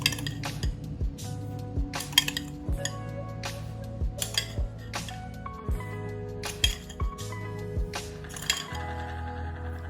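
A metal spoon clinks repeatedly against a bowl while sugar is measured in by the spoonful for a seven-spoon cake, giving sharp, close taps in an irregular rhythm with no talking.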